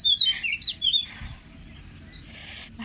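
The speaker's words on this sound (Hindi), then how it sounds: "ये चिड़िया देखो कितनी तेज़ बोल रही है" A small bird calls loudly and close by in a run of sharp, high chirps and tweets. The calls are strongest early on and fade into quieter background noise.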